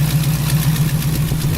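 A built 350 V8 with headers in a 1968 Chevy Camaro idles loudly up close, a steady deep rumble with an even, lumpy pulse.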